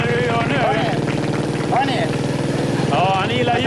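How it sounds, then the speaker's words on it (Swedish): A motorcycle engine runs steadily at close range with a throbbing idle, while people talk over it. "Det är en motorcykel det här för er."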